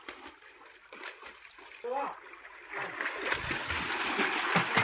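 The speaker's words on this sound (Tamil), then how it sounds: "கிணத்துல தாங்க நீச்சல் அடிக்கிறது." Children swimming in a farm well splash in the water, scattered at first and then building into continuous splashing and sloshing, with voices audible in the background.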